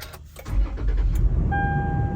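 A Toyota 4Runner cranks briefly and catches, the engine starting with a short churn and settling into a steady idle with a faint whine.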